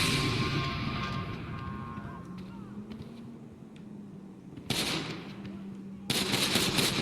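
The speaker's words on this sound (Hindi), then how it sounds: "गोलियाँ चल रही है बाहर।" Gunfire in the video game GTA 5, with bursts of sharp automatic shots breaking out over a steady hum of in-game ambience, one around the middle and another near the end, fairly loud and close, with no talking.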